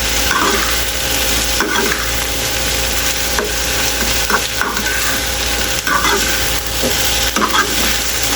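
Tofu (tokwa) frying with canned sisig in a pan, a loud continuous sizzle with repeated scraping stirs of a utensil, no talking.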